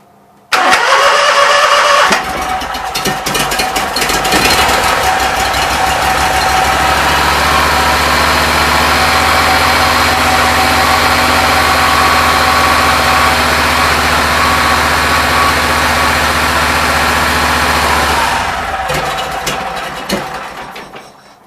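A Briggs & Stratton Vanguard engine cranks and fires up, then runs at a loud, steady idle that holds for a long stretch before being throttled down and fading out, with no voices.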